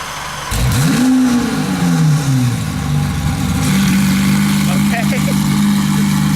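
A sports car engine with its exhaust valves open barks loudly to life at a car meet, surging briefly before settling into a deep, steady idle drone, with a voice talking over it.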